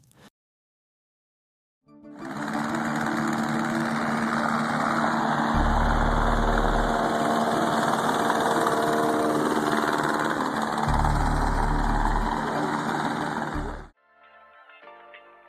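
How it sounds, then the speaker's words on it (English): A hovercraft's 8 horsepower Kohler single-cylinder engine starts up and runs with a loud, steady roar for about twelve seconds, then cuts off abruptly. "Power comes from an 8 horsepower Kohler single cylinder."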